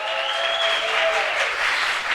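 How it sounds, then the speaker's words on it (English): Audience applause at a music awards ceremony, a steady wash of clapping from a large crowd that holds for a couple of seconds without a break. "a big round of applause to the people that made this happen"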